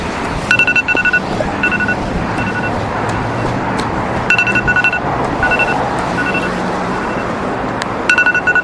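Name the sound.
alarm going off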